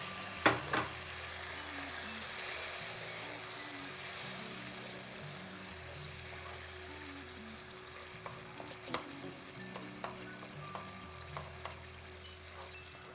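Soft, crushed tomatoes and diluted tomato paste cooking in a pot for beef stew, with a faint steady simmer and a few light clinks and stirring knocks.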